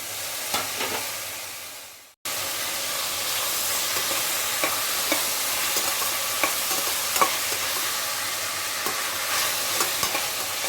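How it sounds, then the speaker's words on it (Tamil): Chopped tomatoes and onions sautéing in oil in a pot, a steady loud sizzle with a stirring spoon scraping and tapping at irregular intervals, briefly cut off near the start before the frying resumes. "ஒரு 5 தக்காளியை பொடியாக கட் பண்ணி வச்சுருக்கேன், அதை சேர்த்து நல்லா குழைய வதக்கலாம்"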